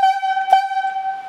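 A highlead logging whistle gives a slack signal for the main line and haulback, a steady harmonic tone broken by a quick short break midway, loud and alone.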